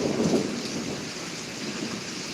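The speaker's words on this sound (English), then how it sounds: "definitely gonna hear thunder from two different directions or something" A thunderstorm in Pittsburg, Kansas, with a steady broadband roar of rain and low rumbling thunder swelling near the start, then settling into a continuous wash of rainfall.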